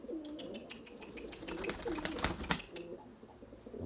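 A flock of pigeons startles and lifts off together, giving a brief flurry of wing flaps with a few soft coos heard at close range and no talking.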